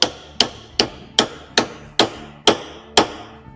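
A piece of wood hammered onto a lathe center before woodturning: eight sharp, loud hammer blows at a steady, even pace, each a crisp close strike with a short ringing decay.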